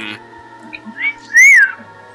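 A game master imitates a whistle coming from a redhead figure in a tabletop role-playing scene. Two short rising whistled notes are heard up close and fairly loud, the second longer and sliding, with no talk over them.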